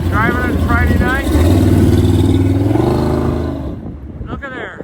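A 1935 Ford coupe street rod engine runs close by with a throaty, swelling note that eases off near the end, while people talk over it.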